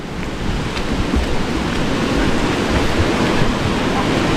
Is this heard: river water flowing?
yes